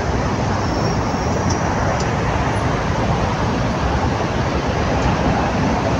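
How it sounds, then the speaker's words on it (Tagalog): Heavy road traffic roars in a dense, continuous wash as many vehicles pass close by a roadside spot where a scooter rider waits to cross, loud and unbroken with no clear gaps. "ayan o, ang daming sasakyan"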